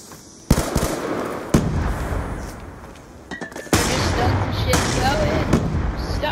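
C4 explosive detonating in Call of Duty: Black Ops II Search and Destroy on Xbox 360, several sharp bangs and bursts over game noise, with a louder sustained blast toward the end.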